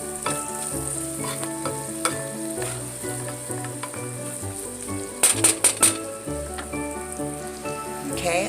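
Half an onion and crispy bacon bits fry in a pan with a continuous close sizzle, broken by a quick burst of sharp spatula taps near the middle, no voices.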